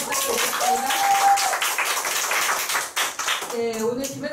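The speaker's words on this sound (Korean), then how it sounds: "박수 한번 부탁드리겠습니다" An audience applauds with a dense, continuous patter of clapping while voices speak and call out over it.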